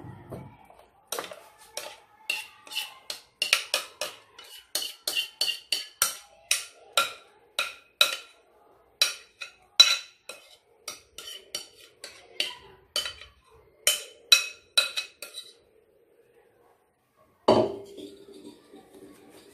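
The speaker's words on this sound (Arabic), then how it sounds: "هاو داك الخليط غنخلطو وغنخويه هنايا" Apple cake batter without eggs being stirred in a bowl and scraped into a buttered, floured cake pan: many quick, close clinks and taps of a utensil on the bowl in uneven bursts, then a brief pause and a final louder scrape.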